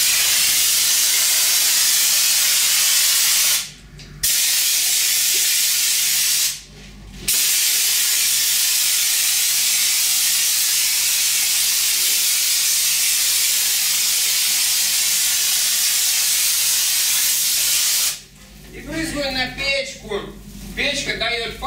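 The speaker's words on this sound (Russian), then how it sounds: "Печка дает пар, тем самым тоже мочит стены." A steady, loud hiss of steam sprays from a steam heater inside a garage being cleaned before priming, broken by two brief pauses, with a voice talking near the end.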